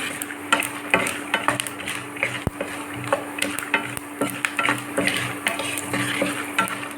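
Urad dal and chana dal fry in hot oil for a tempering for mango rice, giving a steady close sizzle with frequent sharp clinks and scrapes of a spoon stirring in the pan; no one speaks.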